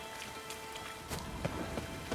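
Rain falling in The Witcher 3, a steady wash of patter with a few heavier drops and faint thumps over a soft ambient background, no talk.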